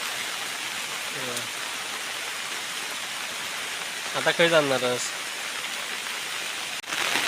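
Heavy rain falls steadily over a tidal creek during fishing, a constant close hiss that fills the whole stretch, with a voice briefly speaking over it.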